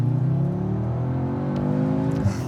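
An Audi S3 accelerating, heard from inside the cabin: a smooth, steady engine drone climbing gradually in pitch, with an audible shift-like dip near the end.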